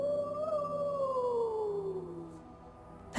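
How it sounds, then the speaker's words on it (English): A single long wolf howl from the video game Tales of Symphonia: Dawn of the New World, clear and mid-distance, sliding gradually downward in pitch over about two and a half seconds before a brief burst of noise at the end. "That howl."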